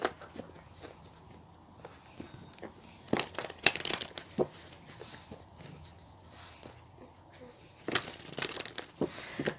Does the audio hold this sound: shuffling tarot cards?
yes